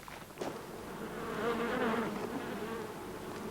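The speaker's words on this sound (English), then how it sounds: "I can see what they mean by humming like a hive of bees" A hive of honey bees hums busily up close, a dense steady drone that swells slightly and holds for several seconds with no talking over it.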